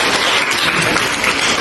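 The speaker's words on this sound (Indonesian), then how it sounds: "Mari kita kasih close tepuk tangan semuanya." An audience claps together at the close of a talk, a dense continuous patter of hands, close and fairly loud, with no voices over it.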